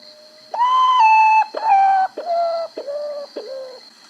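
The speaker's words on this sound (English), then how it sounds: "Gray potu," A gray potoo gives a loud, mournful series of whistled notes, each slightly lower and shorter than the last, descending in a slow sad cadence.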